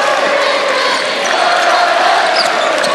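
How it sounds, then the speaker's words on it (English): Broad, steady crowd roar from a packed gym during a Class 4A boys high school basketball championship game, loud and continuous throughout with faint shouts and a hint of ball bounces. "The crowd is certainly into it."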